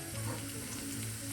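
Crushed garlic sizzles steadily in hot coconut oil for a mushroom gravy, a close, continuous frying hiss with faint crackles and no voices.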